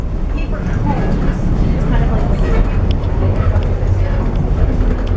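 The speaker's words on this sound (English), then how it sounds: "we're right now going on an actual Alaska Railroad train to Denali" An Alaska Railroad passenger train bound for Denali rumbles and rattles steadily from inside the car, a loud, continuous low roar with faint clatter throughout.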